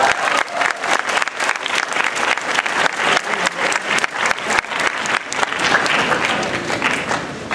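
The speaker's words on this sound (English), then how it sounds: "Let's give a round of applause." Loud, sustained applause from a school audience at a Black History Month celebration, dense rapid clapping filling the whole stretch without letup.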